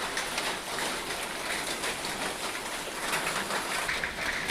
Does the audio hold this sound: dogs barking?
no